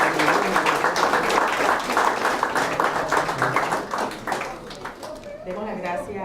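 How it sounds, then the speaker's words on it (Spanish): Lecture audience applauding a professor after a talk on the Tocumen airport management model, a dense wash of clapping with some talk or murmur mixed in, tapering toward the end. "Tenemos un fuerte aplauso a nuestro profesor."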